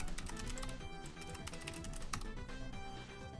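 Fast, continuous typing on a computer keyboard, close and busy throughout, with dense clicking keystrokes layered over steady background game music from Bit Heroes Quest.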